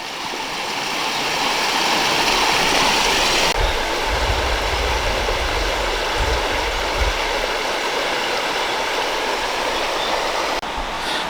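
A small tributary stream rushes with force into a river near Blackpool Sands, giving a loud, steady broadband roar of churning water that is close and continuous throughout, with low rumbling surges beneath.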